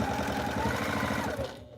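A sewing machine runs a steady, rapid mechanical stitching chatter while sewing a tote bag strap, close and continuous before slowing and cutting off at the end.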